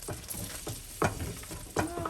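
Onion sizzles gently in butter in a pan, a soft continuous frying hiss broken by a few louder scrapes and stirs. It is close and fairly quiet, with no talk.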